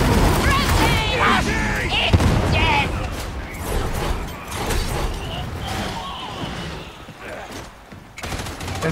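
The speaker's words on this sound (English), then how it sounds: "Grenade!" A grenade explodes during a chaotic firefight in Warhammer 40K: Darktide, with booms and rapid gunfire piling up densely and loudly. Shouting voices cut in and out over the din.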